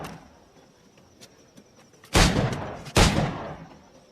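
Two loud, booming gunshots from a flintlock-era firearm in the pirate game Assassin's Creed IV Black Flag burst about a second apart after quiet ambient background, each with a long, echoing decay.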